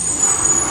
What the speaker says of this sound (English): there's a lot of background traffic noise and stuff like that